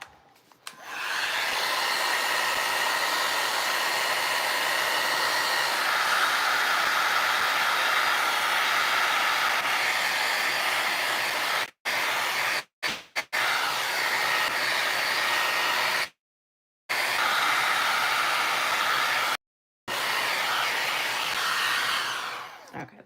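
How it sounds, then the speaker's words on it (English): A hair dryer blowing steadily on a glued, painted old book page during a Santa decor craft, a loud continuous whooshing roar close by, switched off briefly several times in the last stretch, with no talk. "Where's my dryer?"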